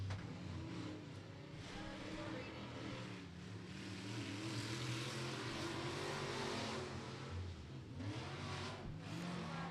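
Sport modified race cars on track during qualifying at Beckley Motor Speedway, engines roaring and revving at a distance in a continuous faint drone.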